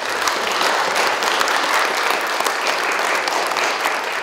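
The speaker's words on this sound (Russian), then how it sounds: "Когда перечисляются ордена легендарного оренбуржца, зал аплодирует стоя." A hall audience gives a standing ovation in honour of a legendary Orenburg man as his state orders are read out, with dense, steady applause sustained throughout at full loudness and no talking.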